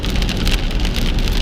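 Heavy rain pours down during driving, a loud, continuous hiss and patter of drops on the car, with no voices.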